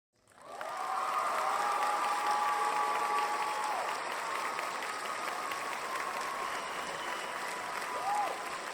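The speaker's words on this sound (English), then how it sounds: "So another round of applause for John Van Auken." A lecture audience gives sustained applause for John Van Auken, a broad, even roar of many clapping hands that swells quickly and holds for about eight seconds, with faint voices and whistle-like tones mixed in.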